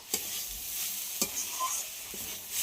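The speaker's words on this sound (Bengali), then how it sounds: "বাদাম দেওয়ার পরে আবারও 5 মিনিট ভেজে নিয়েছি।" Beetroot and nuts fry quietly in a pan under a soft, steady sizzle, and a few sharp scrapes of a spatula stirring against the pan stand out.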